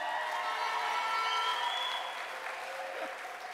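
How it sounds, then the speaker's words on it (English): A rally crowd greets Twiggy with loud, sustained applause that stays dense and even, then thins slightly toward the end with some cheering mixed in. "Give her a round of applause."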